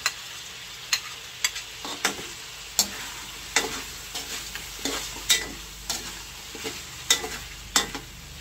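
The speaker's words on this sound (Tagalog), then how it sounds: "Akin na pong igigisa, ilalagay ko na po yung bawang." Garlic sautéing in a pan in which chicken was already browning, for a Filipino tinola: a steady sizzle with regular sharp scrapes of a utensil stirring, roughly one per second, close and alone.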